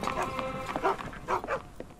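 Dogs barking in the video game Sherlock Holmes The Awakened, a few short barks at moderate distance under low background music and ambience, with brief bursts around the middle of the clip.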